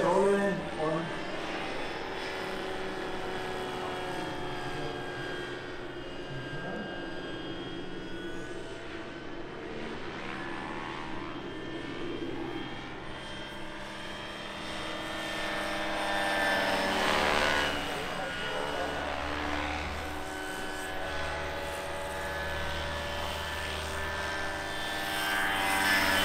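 A large XXL Vario Bo 105 radio-controlled model helicopter performs aerobatics at an outdoor event, its rotor and turbine whine rising and falling as it swoops and rolls, heard beneath ongoing commentary from an announcer.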